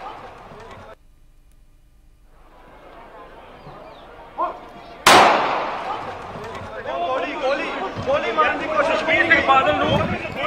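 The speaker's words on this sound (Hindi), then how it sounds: "सुखबीर बादल पर गोली चलने से स्वर्ण मंदिर के द्वार पर हंगामा मच गया।" Pistol shot fired at Sukhbir Badal at the entrance gate of the Golden Temple: a single sharp loud crack midway, followed by a surging, excited crowd commotion with many voices shouting close by.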